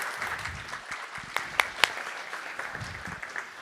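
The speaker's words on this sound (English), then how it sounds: "Round of applause for Sebastian, please." Audience at a main-stage banking expo conference session claps for a departing speaker, a soft, steady patter of applause with a few sharper claps near the middle, fairly quiet throughout.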